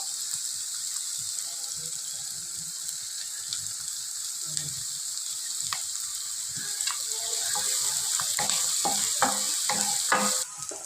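Sliced onions frying with salt in a pan for a mushroom gravy, giving a steady close sizzle with scattered stirring scrapes and light clicks, louder toward the end, no talk.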